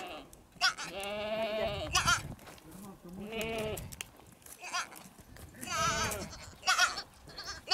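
Giant Kula Honamlı goats and their kids bleat on a farm near Duacı, Antalya, in loud, wavering cries that come in repeated bursts, with people talking close by.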